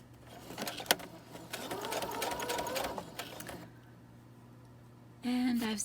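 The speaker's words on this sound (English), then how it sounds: "And I'm just going to stitch along the edges of this paper." A sewing machine runs a straight stitch along the edges of paper and fabric, a close, busy mechanical whirr for about three seconds before stopping, followed by quieter room sound and a brief burst of noise at the end.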